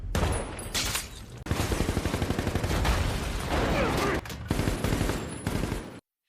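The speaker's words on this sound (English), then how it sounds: "and then the shooting begins" Heavy gunfire in a sniper war story, a sustained, loud rattle of rapid shots and bursts, like machine-gun fire, that runs almost unbroken for about six seconds, then cuts off abruptly.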